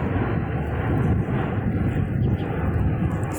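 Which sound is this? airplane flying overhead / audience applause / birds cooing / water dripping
airplane flying overhead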